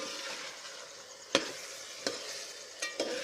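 Spices being stirred into vegetables frying in a pot for vegetable rice give a steady soft sizzle, broken by a few sharp scraping clicks of the spoon, close and alone with no voices.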